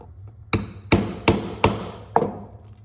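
A stitching chisel is struck with a hammer through leather laid over a cutting board, punching stitch holes for a dog leash: five sharp, loud blows spaced about half a second apart, each ringing briefly before the next.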